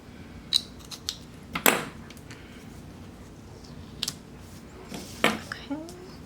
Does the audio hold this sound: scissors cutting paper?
yes